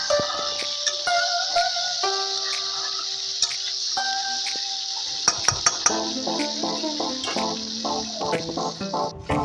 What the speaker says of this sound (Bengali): 2-3 মিনিট ভাজার পর টমেটোটা দিয়ে দিচ্ছি আর একবার কষিয়ে নেব